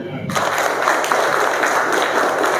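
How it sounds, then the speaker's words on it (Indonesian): An audience at a religious gathering breaks into sustained applause that starts abruptly and holds steady and loud, with crowd noise mixed in. "Tepuk tangan dulu."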